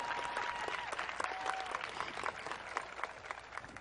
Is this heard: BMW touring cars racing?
no